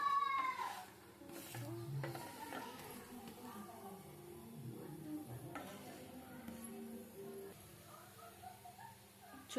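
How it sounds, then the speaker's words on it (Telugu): A radish chapati roasts in oil on a hot pan with a steady low sizzle and frying crackle, a soft scrape or two near the start, and a voice talking over it throughout. "చూసారా ఎంత మంచిగా కాలుతుందో."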